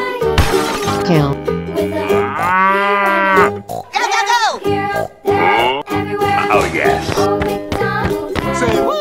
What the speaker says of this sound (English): Cow.